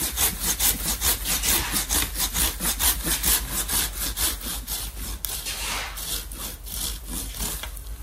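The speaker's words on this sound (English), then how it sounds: "With the saw. Just a straight cut will do." A hand saw cuts through a maple bonsai branch with quick, regular rasping strokes, about three per second, loud and close. The strokes soften and slow near the end.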